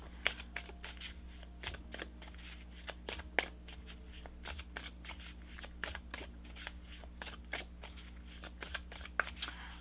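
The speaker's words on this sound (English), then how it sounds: "let's pull you an overall guidance card for the rest of September" Tarot cards are shuffled by hand in a steady run of crisp, close riffles and soft slaps, repeating rhythmically over a low background hum.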